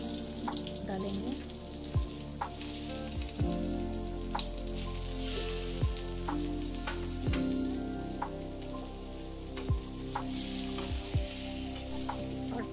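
Whole aubergines fry in oil in a wok with a steady, rain-like sizzle, broken by sharp clinks of utensils and a faint voice in the background.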